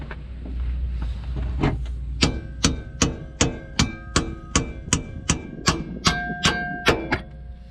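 A hammer strikes repeatedly during a Toyota 4Runner suspension job, fitting a coil spring and shock. The blows are sharp, metallic and close, landing in a steady rhythm of about a dozen hits with no talking.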